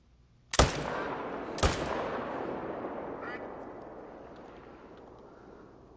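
Two loud rifle shots at a red deer in theHunter: Call of the Wild, the first a sharp crack about a second before the second, each followed by a long rolling echo that fades slowly across open terrain.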